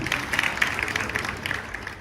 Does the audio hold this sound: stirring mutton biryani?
no